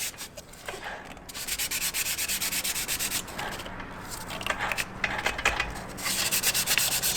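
Abrasive pad rubbed up and down across the driven (secondary) clutch surface of an ATV CVT, a steady raspy scuffing in repeated strokes with brief pauses, close and moderately loud with no talking.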